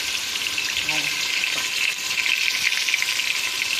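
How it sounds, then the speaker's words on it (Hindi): Tomatoes hit a pan of frying potatoes and set off a steady, loud sizzle that holds for several seconds as food is stirred in a kitchen. "इसके अंदर पहले डालेंगे टमाटर।"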